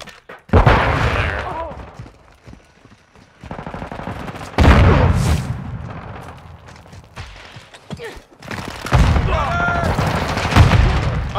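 Rapid gunfire bursts from a Call of Duty Modern Warfare II (2022) multiplayer match, with loud volleys near the start, middle and end and a steady battle din between them.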